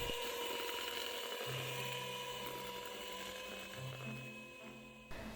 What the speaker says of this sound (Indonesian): menggunakan mixer dengan kecepatan rendah hingga tercampur lembut